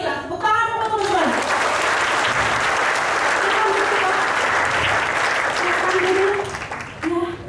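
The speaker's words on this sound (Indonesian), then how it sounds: "Tepuk tangan untuk teman-teman." Loud, sustained applause from an audience cheering a team at an Indonesian corporate gathering, with a voice talking briefly over the start and the clapping tapering near the end.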